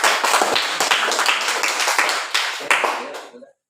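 Several people clap together in quick, dense applause for about three seconds before it stops abruptly.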